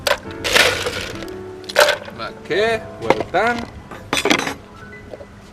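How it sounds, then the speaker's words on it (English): Ice cubes, five or six of them, clink and crack as they drop one after another into a glass for a strawberry mint mojito mocktail, sharp bright knocks in quick bursts, with a short spoken remark near the end. "let's have a few ice cubes inside, around 5 to 6"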